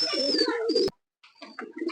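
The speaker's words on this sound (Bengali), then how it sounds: "খুব সুন্দর কোয়ালিটির কবুতর।" Pakistani pigeons of varied breeds kept for sale call out close and loud in a short burst, then fall briefly silent before more scattered calls resume.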